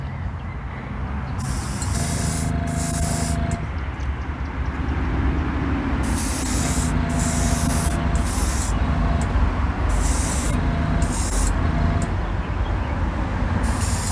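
A spray gun applies a light tack coat of paint to a Chevy Silverado truck in a shop, giving a steady hiss over a constant low compressor rumble, with bright airy bursts pulsing on and off throughout.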